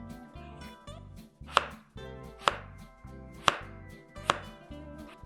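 Knife slicing potatoes into thin even slices on a cutting board, four sharp distinct cuts at a steady, unhurried rhythm, close and fairly quiet with no talking.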